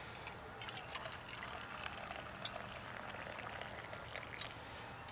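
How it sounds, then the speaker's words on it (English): Boiling water from a Kelly Kettle is poured out in a steady, soft trickling stream that runs throughout with a few splashy peaks, quiet and close with no talking. "And pour it right on in, just like that."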